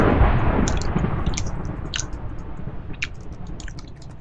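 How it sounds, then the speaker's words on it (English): Crunchy chewing goes on steadily, close and fairly loud at first and then easing off, with scattered crisp bites and crackles through the whole stretch. No one talks. "What is that crunching in the background?"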